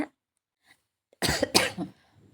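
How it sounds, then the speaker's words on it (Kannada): After a quiet stretch, two harsh, close coughs in quick succession, then silence. "ಮಾತಾಡ್ತಿರುವಾಗಲೇ ತುಂಬ ಕೆಮ್ಮು ಬಂದುಬಿಡ್ತದೆ ನನಗೆ"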